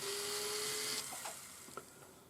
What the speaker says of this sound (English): round burr that I'm just holding sideways in my handpiece, so that I end up with a little spot so that I can run my drill in